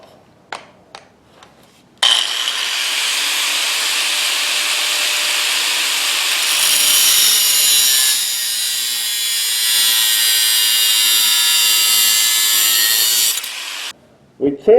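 Cutoff wheel grinding through knife steel from a flint and steel knife making kit, a loud continuous high-pitched shriek lasting about twelve seconds, rising in pitch partway through, preceded by a few taps.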